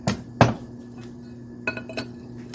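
Metal tapping on a valve spring retainer to loosen the keepers on a cylinder head: two sharp clinks close together, then a pause and a pair of lighter metallic taps, close and clear with no talk.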